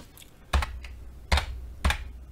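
Three separate keystrokes on a computer keyboard sound up close, crisp clicks spaced roughly evenly apart against a quiet background.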